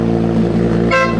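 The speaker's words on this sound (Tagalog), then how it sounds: "Testing na ganda na yung busina ko." A newly installed car horn sounds one loud, steady toot over a running engine, close by, with a brief shift in pitch near the end and no talk.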